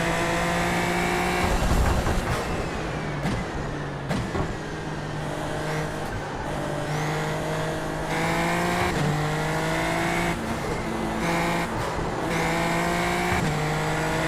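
Race cars on the Spa circuit whine through rising and falling gear changes, a close, loud in-car engine note with repeated shifts and revs over road rumble.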